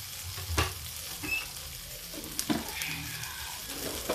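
Food frying with turmeric in a pan over low heat, a soft continuous sizzle broken by spoon stirring and scraping, close and quiet, with no voices.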